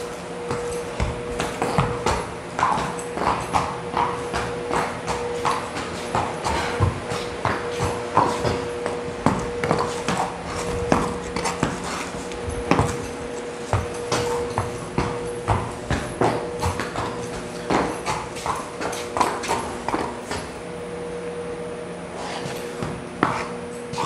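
A sick horse led at a walk on a hard surface, hooves clip-clopping in a steady rhythm of close, distinct strikes with a faint hum behind.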